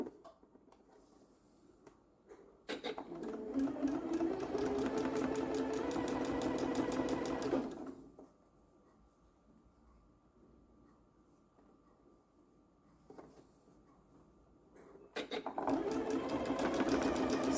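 A sewing machine runs in two bursts, chain piecing straight seams on cotton quilt pieces for a Dresden plate quilt, loud and close with a steady whirring drone and a quiet pause between the runs.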